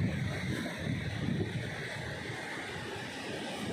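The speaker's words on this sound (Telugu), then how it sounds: "పొన్నపూడి సముద్రం అన్నమాట" Sea waves at Ponnapudi beach wash in as a soft, steady, distant surf roar with faint wind, continuous and unbroken, and no voices.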